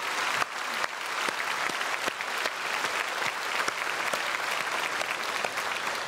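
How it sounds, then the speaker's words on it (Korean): A church congregation clapping during a Sunday worship service, a sustained dense round of applause with sharp individual claps standing out, steady and moderately distant. "크게 박수해 주시면 감사하겠습니다."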